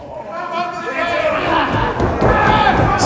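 A pro wrestling crowd at a Primetime Pro Wrestling show cheers loudly for the Aztec Warrior Izzy Reyes, the roar building over a few seconds with thumps from the ring as a commentator talks.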